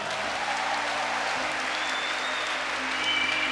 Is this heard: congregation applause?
yes